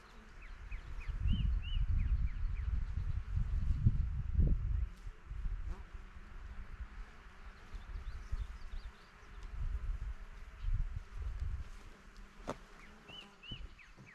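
Honeybees buzz around a hive in a low, continuous drone that swells and fades, with a few faint chirps in the background.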